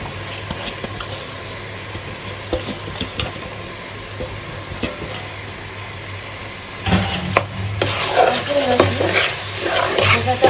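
Rice being stir-fried with spices in a pan for chicken biryani, with a steady close sizzle and scraping stirs that grow louder and more vigorous partway through.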